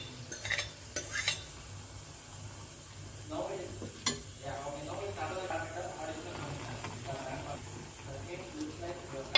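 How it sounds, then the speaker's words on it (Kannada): Cooked dal stirred into fried onion greens in a pan: soft scraping and clinking of a spoon against the pan with a faint sizzle, steady and close, under a voice talking. "ಇವಾಗ ಬೇಳೆನ ಹಾಕಿ ಮಿಕ್ಸ್ ಮಾಡ್ತಾ ಇದ್ದೀನಿ"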